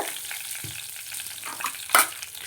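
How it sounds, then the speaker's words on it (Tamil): Mustard seeds, urad dal and a red chili temper in hot oil in a kadai, a soft steady sizzle close by with scattered pops and one sharper crackle near the end. "ஒரு கடாயில் அந்த வறுத்தோம்ல அதுலேயே கடுகு, உளுந்து, ஒரே ஒரு வரமிளகா இல்லை நீட்டு மிளகாவை நீங்கள் கிள்ளி தாளிச்சிக்கோங்க"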